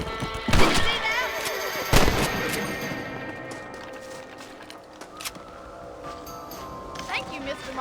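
Two loud rifle shots ring out in Red Dead Redemption as rabbits are hunted, with a third fainter crack later, followed by a quiet outdoor ambience while a voice speaks.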